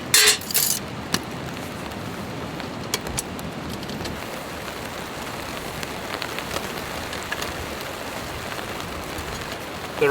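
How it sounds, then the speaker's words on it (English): Steady heavy rain pattering on a tent during winter camping, a dense continuous hiss with occasional louder drops and clinks, no voices. "The rain's really setting in now."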